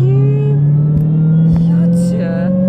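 Dodge Challenger Hellcat with its supercharger whining over the engine. A loud, steady high-pitched whine rides on a deep engine drone and rises slightly in pitch. Brief voices are heard.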